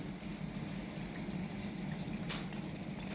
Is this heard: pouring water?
yes